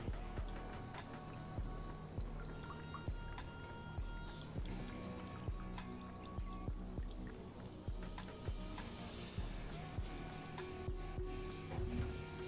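Rain ending a drought in the city-building game Endzone: steady patter of drops and trickling water with recurring soft splashes, continuous and moderately close, no voices.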